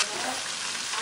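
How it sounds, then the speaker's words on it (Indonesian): Ground spice paste frying in a hot wok while being stirred gives a loud, steady, dense sizzle that carries on without pause. "Kita aduk-aduk, kita gongsong bumbunya sampai nanti wangi banget"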